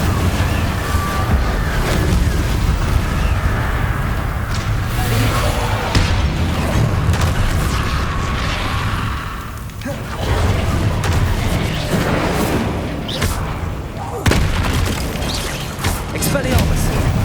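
Spell blasts in the Hogwarts Legacy video game, fire and explosive Incendio and Confringo casts booming one after another in dense, loud, continuous bursts while a voice calls out spell names throughout.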